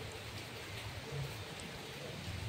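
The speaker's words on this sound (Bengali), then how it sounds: "বৃষ্টি পড়তেও শুরু করে দিয়েছে" Steady rain falling under a heavily clouded, darkened afternoon sky, a constant dense hiss with no breaks, faint and even, without talk.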